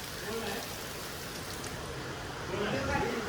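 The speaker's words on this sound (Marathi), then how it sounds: "पाऊस पडतो अजून पण" Steady rain hisses throughout, with faint voices rising near the end.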